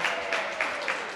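A small audience at a school wellness and self-care event claps briefly, a soft, even patter of hands with a slightly pulsing texture, moderately near and without any talking.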